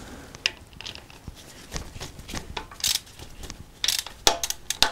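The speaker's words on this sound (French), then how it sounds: "Maintenant, je vais dévisser la vis là qui tient le galet tendeur. Ça va libérer le ressort qui va mettre en pression la courroie." Ratcheting wrench unscrewing the bolt on a car's timing belt tensioner pulley, a run of quick close clicks and metallic ticks that grow sharper and louder toward the end, with no talking.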